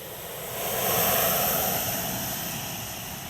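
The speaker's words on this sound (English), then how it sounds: "the jet fighter roars across the runway and then takes off" An F-16 fighter jet roars down the runway on takeoff, a broad loud rushing engine noise that swells to a peak and then eases slightly while still sustained.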